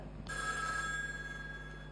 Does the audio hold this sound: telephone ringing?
yes